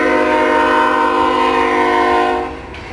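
A loud, sustained train horn blares with rich harmonic tones for over two seconds, then cuts off, leaving quieter rumbling, near the river in Hannibal, Missouri.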